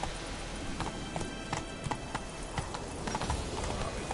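Rhythmic clip-clop of hooves from Roach, a horse in a PS4 video game, trotting steadily at moderate volume with irregular accented hoofbeats and no talk over it.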